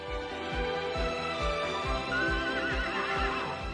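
A horse neighs and whinnies in The NeverEnding Story film, over a steady rhythmic clopping of hooves, loud and close, with no talking.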